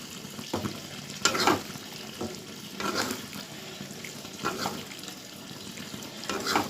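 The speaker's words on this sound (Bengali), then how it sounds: "নাড়াচাড়া দিয়ে নামিয়ে দেবো।" Egg curry being stirred in a pan, quiet frying with intermittent scraping and stirring strokes every second or so, fairly faint and close, no talking.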